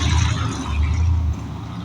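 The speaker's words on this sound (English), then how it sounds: "Somebody with a loud car driving by." A loud car passes by outside as a deep, steady engine rumble that holds for about a second and then drops away.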